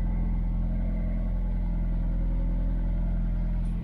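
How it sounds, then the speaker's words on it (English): A loud diesel engine runs just outside a boat in Ireland, giving a steady, close, unbroken low rumble throughout with no talk over it. "if you can hear me through this lovely loud diesel engine on the outside"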